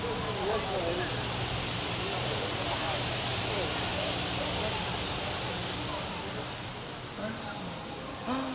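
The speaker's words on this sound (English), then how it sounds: "Oh, there's a waterfall." A waterfall near a temple in Taiwan gives a steady, full rushing roar that fills the whole stretch, with voices talking over it and the roar easing slightly toward the end.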